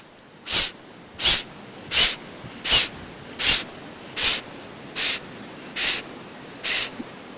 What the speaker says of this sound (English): So 10 sniffs in, pulling up all those feelings that you've just been pushing down.